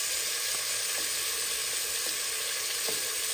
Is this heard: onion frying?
yes